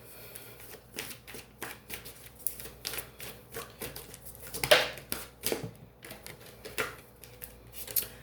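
Tarot cards are shuffled by hand in quick, irregular riffles and taps, close and fairly soft, with a louder slap near the middle.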